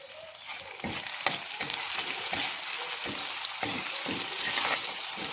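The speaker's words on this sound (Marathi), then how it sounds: "कांद्यामध्ये थोडंसं मीठ टाकून घ्या, म्हणजे तो लवकर ट्रान्सपरंट होऊन जाईल." Chopped onion fries with salt in a hot pan while making a breakfast from leftover chapatis, giving a steady close sizzle broken by regular scraping stirs of a spoon against the pan.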